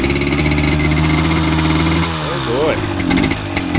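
A 1988 Yamaha DT200 two-stroke enduro motorcycle idles loudly and close by with a steady buzzing rattle that dips and then rises again. Someone speaks briefly over the engine.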